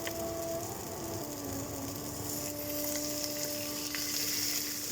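Chicken and green beans stir-fry in oil with broccoli charring, giving a steady close sizzle and crackle with faint stirring and no voices.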